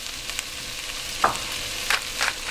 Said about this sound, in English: I have 1 green pepper and 1 large onion. And it's just a rough chop, that's all it is. So I have those in, a little bit of olive oil that I'm cooking up.